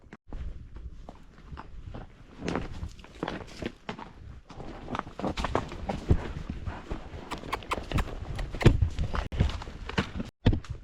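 Horse hooves walk slowly along a trail through ponderosa pine country, with a steady uneven clip-clop of close, fairly loud footfalls and occasional thuds of tack and brush.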